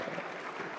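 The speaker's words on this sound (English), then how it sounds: "So I'd love to have a round of applause for these three" Audience applause at a tech creators' event with the Union Telecom Minister, a brief, fairly faint wash of steady clapping.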